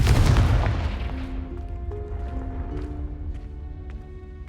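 A Confringo blasting spell explodes in the Hogwarts Legacy video game: a heavy boom opens loud and close, then its low rumble decays over a few seconds beneath scattered faint game effects and a lingering musical tone.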